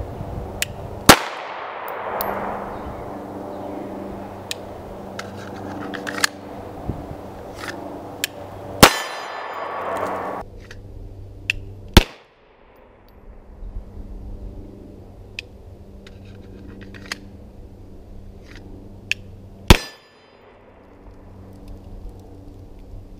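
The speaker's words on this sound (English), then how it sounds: "I brought down about 150 rounds of ammunition and shot through it really quickly." A Canik TP9SF Elite S pistol fires at a shooting range in sharp, loud, isolated cracks spaced several seconds apart, each with a short ringing decay, over a quiet background with faint clinks.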